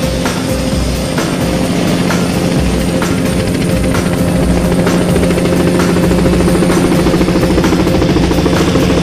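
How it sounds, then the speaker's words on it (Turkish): A helicopter roars loud and close for the whole stretch, its rotor chopping in a steady fast beat over a heavy engine drone, with no talk. "helikopter neydi ağa?"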